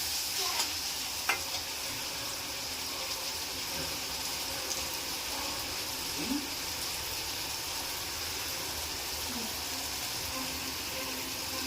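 Spices such as turmeric, coriander powder and asafoetida are stirred into softened tomato and onion frying in a pan. A soft, steady sizzle continues throughout, with a few light stirring scrapes and taps.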